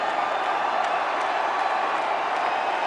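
Stadium crowd noise at a cricket Test match, a broad, steady roar of cheering and applause that holds evenly throughout with no break.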